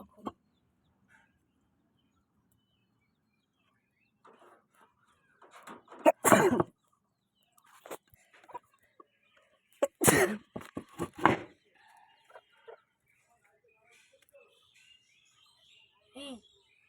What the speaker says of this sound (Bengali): আমি আরও পাখি পুষি বাড়িতে